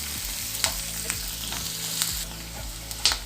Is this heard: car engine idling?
no